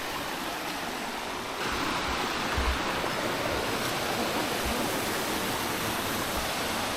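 A steady roar of falling water fills the scene, broad and continuous like a nearby cascade, with no talk; a waterfall on Réunion Island.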